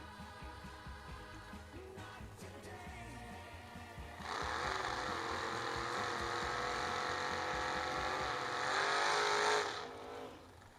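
Drag race cars in a footbrake race idle with a rough rumble, then break into a loud, sustained high-pitched roar at launch that holds for several seconds before fading out, heard from the track side.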